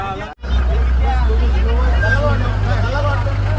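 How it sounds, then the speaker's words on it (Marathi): Busy street traffic in the lanes of Goa, heard from inside a moving bus, with a steady low engine rumble beneath a hubbub of crowd chatter and road noise. "खूप ट्रॅफिक आहे."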